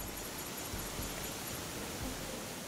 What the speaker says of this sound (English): That is a loud waterfall.